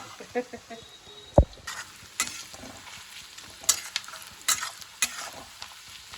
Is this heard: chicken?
no